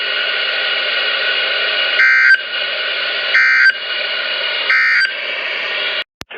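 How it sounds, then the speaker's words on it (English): Emergency alert system alarm tone from a NOAA weather radio during a weekly test in Wasco County: a harsh, steady tone sounds for about six seconds, with three short louder pulses at regular intervals, then cuts off abruptly. "That was a successful weekly test of the emergency alert system on all NOAA weather radios in Wasco County."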